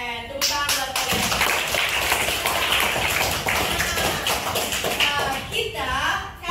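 A school class claps hands together in a lively burst of rapid, close clapping, mixed with children's voices and chatter throughout.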